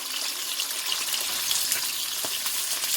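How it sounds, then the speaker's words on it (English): Steady crackling sizzle of sprats frying in hot oil, continuous and close, with small pops throughout. "So while the sprats are frying"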